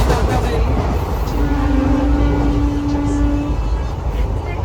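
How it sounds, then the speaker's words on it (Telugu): A passenger train heading overnight toward Vijayawada rumbles along in a steady, loud, continuous roar heard from inside the carriage, with faint voices underneath. "రెండింటికి అయితే ట్రైన్ బయలుదేరింది"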